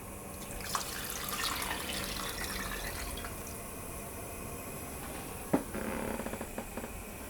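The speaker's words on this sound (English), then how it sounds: "And as I break those up, I'll add in my vegetable stock." Vegetable stock pours into a pot of chickpea coconut dal, giving a steady liquid trickle and splash that runs continuously with a brief clunk near the end, close and fairly quiet.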